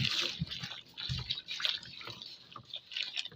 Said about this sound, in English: Go ahead and add your remaining 2 liters of water.